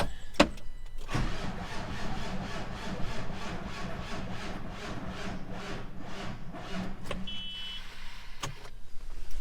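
Farm tractor's starter cranking repeatedly in a steady rhythmic churn for several seconds, the engine never catching, with sharp clunks at the start and end; close and fairly loud, no speech.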